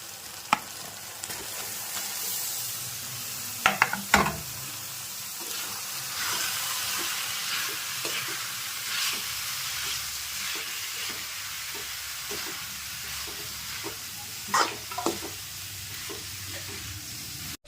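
Chopped carrots and cabbage sizzle and fry in a hot pan while being stirred, a steady hiss with occasional clinks and scrapes of a utensil against the metal.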